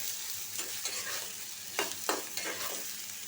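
Onions frying in a pan for a dried chapa shutki fish mash, with steady close sizzling and a few scraping stirs of the spoon through the pan, no talking.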